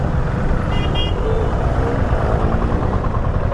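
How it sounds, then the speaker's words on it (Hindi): A KTM RC 390 motorcycle fitted with CEAT Sportrad tyres spins its rear wheel, giving a steady, loud broadband roar of engine and tyre with no break and no talk over it. "वापस व्हील स्पिन"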